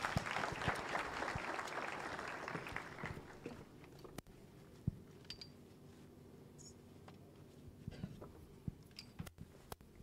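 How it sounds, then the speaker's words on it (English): An audience at a foundation launch event applauds loudly for several seconds to welcome a board chairman, the clapping fading into a quieter room with scattered small clicks and shuffles. "Please give him a warm round of applause."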